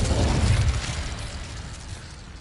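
The Incendio fire spell goes off in the video game Hogwarts Legacy with a loud, rumbling burst of flame that swells briefly and then fades into a dwindling roar.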